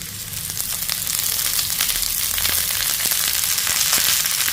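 Steady crackling sizzle of chopped pirandai (veldt grape) stems frying in hot oil, with sharp pops and spits scattered throughout, close and fairly loud.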